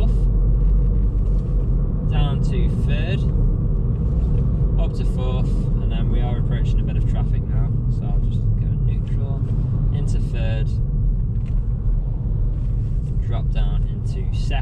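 Ford Fiesta ST-3 three-door hatchback driving on the road while shifting down through its gears, a steady low engine and road rumble running continuously with brief chirpy noises over the top and a voice talking throughout.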